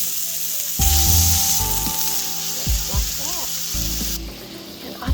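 A sausage patty pressed thin sizzling loudly on a hot surface, a sudden burst of frying followed by steady crackle, with scraping and a few squeaky clatters nearby.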